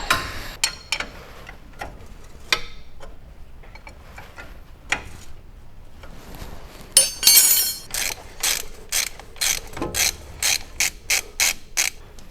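Ratchet wrench cranking off a tight castle nut on a car during rally prep, with scattered clicks and knocks at first, then a run of loud, rapid, evenly spaced ratchet clicks close by.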